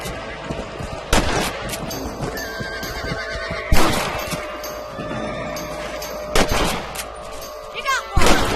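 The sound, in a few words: rifle gunshots shooting rabbits in video game Red Dead Redemption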